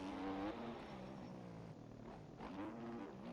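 A 250cc motocross bike engine in the MX Bikes racing game drones steadily throughout, its pitch sliding up and down with throttle changes, loud and continuous with no speech.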